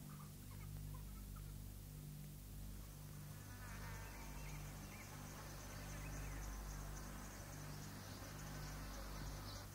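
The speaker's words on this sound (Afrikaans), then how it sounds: "Hordes insekte zoem vreesaanjaend en alle wild soek lui skarikolle." Swarms of insects drone in the African veld under the midday heat, a dense continuous buzzing hum with low steady tones and faint higher whirring, even and unbroken throughout.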